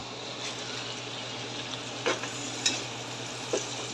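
Whole spices such as star anise, cumin, bay leaf and black cardamom frying in oil, a low, steady sizzle with a few soft clinks of stirring.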